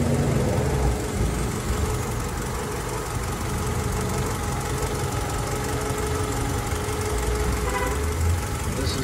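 Honda Accord wagon with a 16-valve engine idling at night, a steady low rumble with a faint knocking pulse that continues evenly and close up, with no talking over it.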